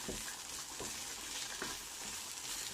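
Onions and chili frying in a pan: a soft, steady sizzle with faint periodic stirring scrapes, fairly quiet and without talking.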